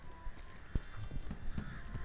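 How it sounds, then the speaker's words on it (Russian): Horse hooves clip-clop in The Witcher 3 video game, a handful of close, sharp hoof strikes in an uneven walking rhythm over a soft ambient background. "Это моя лошадь."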